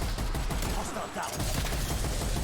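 Dense gunfire in Call of Duty Cold War zombies mode, a near-constant loud fusillade of rapid shots cutting down zombies at an exfil point, with a brief lull midway before the shooting resumes.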